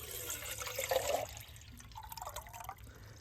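Water poured from a container into a pot outdoors beside a campfire in the Wisconsin wilderness, a quiet, close splash and trickle lasting a few seconds.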